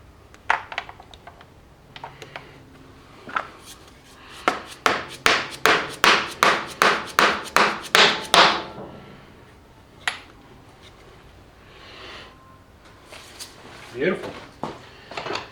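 Repeated hammer blows from the back side of a 3/4 dead blow hammer drive a new pump into place through a 3/4 socket during an LS swap in a CJ-7. About a dozen sharp, close strikes come in a steady rapid series, with scattered clanks before and after.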